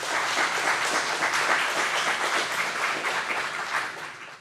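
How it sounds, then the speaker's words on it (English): Audience applause and clapping welcoming Jax Finkel at a Libertarian Party of Travis County event, a steady, dense round of hands that holds loud throughout and fades slightly at the end. "please give a round of applause and welcome Jax Finkel."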